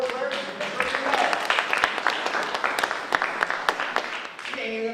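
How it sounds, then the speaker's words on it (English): An audience claps at a live entrepreneur tour event, with dense, steady applause filling the room while people talk over it. "So let's give her a big round of applause."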